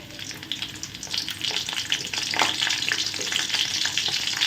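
Ginger, garlic and curry leaves frying in hot oil give a steady, close crackling sizzle with bursts of popping and occasional stirring, continuing throughout without any voices.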